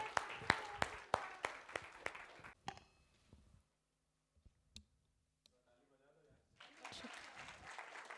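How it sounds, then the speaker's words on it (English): Audience at a storytelling session applauding the three women of the winning team: a few loud, distinct claps, a short lull with scattered sounds, then a renewed burst of applause from a crowd. "a big round of applause for the 3 ladies"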